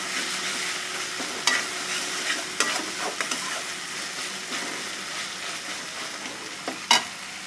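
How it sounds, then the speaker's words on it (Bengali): Masala for egg curry sautéing and sizzling steadily in a pan, with occasional sharp scrapes and clacks of a spoon stirring it, close and moderately loud, no talking. "ভালোভাবে কষিয়ে খেতে হবে কখনো হয়ে গেছে প্রায়"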